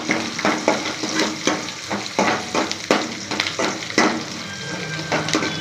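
Chopped onion sautéing in hot oil for a kurma, a steady close sizzle broken by regular scraping and clacking strokes of a spoon stirring against the pan.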